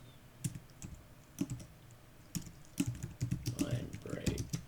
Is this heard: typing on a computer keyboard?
yes